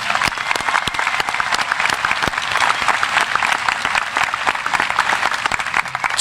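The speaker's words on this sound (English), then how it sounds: "Can we give them a round of applause?" Graduation audience at a high school ceremony applauding the students, a dense, steady burst of many hands clapping at once that holds loud and even, with no talk over it.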